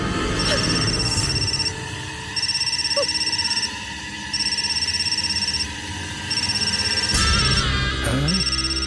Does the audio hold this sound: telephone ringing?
yes